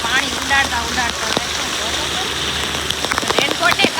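Heavy rain patters and splashes steadily on surfaces during a downpour, a dense continuous hiss with occasional sharper drops and some faint voices underneath.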